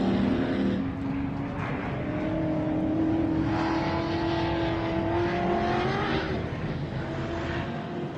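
Race cars run in an SVRA race at Prairie City, Rancho Cordova, California, during the 2017 MetalCloak Stampede. Engines roar loudly and continuously, with rising and falling revving tones as cars accelerate and pass.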